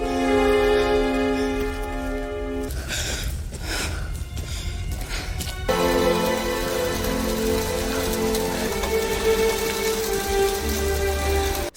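Hailstorm in a film scene, heard as steady dense rain-like pattering and clattering on surfaces under a sustained musical score that shifts midway, with no speech.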